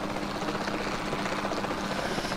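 A helicopter in the video game Jurassic World Evolution 2 flies close by with a loud, continuous rotor thrum and engine roar throughout.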